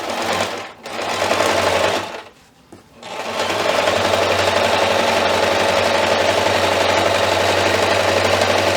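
A sewing machine stitches a zipper onto a small fabric piece at a quarter-inch seam. It runs loud and close in a short burst, stops twice briefly, then hums and clatters steadily to the end.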